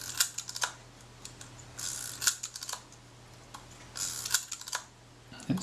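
Shutter release mechanism of a Kodak Retina Reflex IV camera being turned and tested during repair, giving a series of small close metallic clicks and ticks in irregular bursts against a quiet room.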